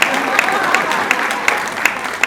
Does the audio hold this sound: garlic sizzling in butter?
no